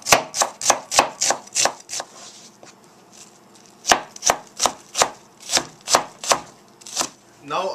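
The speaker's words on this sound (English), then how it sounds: "Now I'm chopping a garlic." A knife chops garlic on a board in quick, sharp, evenly spaced strikes. A burst of about seven chops comes first, then a short lull, then another steady run, all close and clear with no voices.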